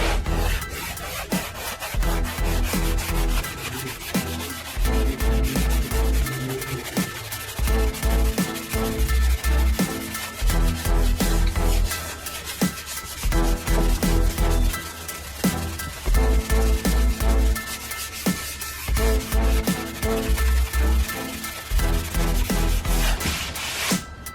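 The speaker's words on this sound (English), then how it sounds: "this primer is sanding really nice" Steady, rhythmic rasping of sandpaper scrubbing back and forth over primer on a car body, continuous and close, with no talking.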